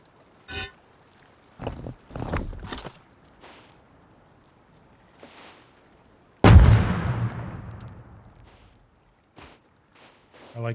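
A siege weapon in the video game Rust fires one heavy, booming blast midway that rumbles and slowly fades, with scattered softer thumps and clicks before and after.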